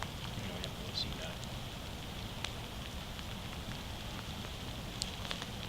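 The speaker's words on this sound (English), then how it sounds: "it's starting to rain harder" Rain patters steadily on a wooded hiking trail in Chesterfield, Virginia, a soft even hiss with scattered sharper drops ticking through it, fairly faint and continuous with no talk.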